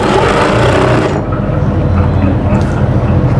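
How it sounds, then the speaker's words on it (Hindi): A sewing machine stitching the side pocket of an Afghani-style kurta, running as a loud, continuous close mechanical whir and rattle for the whole stretch. "इसको आपने ऐसे सीधा करके इधर सिलाई लगानी है पहले।"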